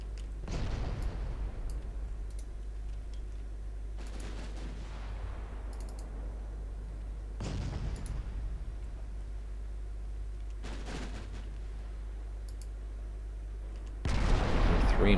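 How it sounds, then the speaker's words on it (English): Naval guns firing in the game Ultimate Admiral Dreadnoughts, a series of deep booms spaced several seconds apart over a steady low engine and sea drone, each shot trailing off slowly. "Range guns are opening up."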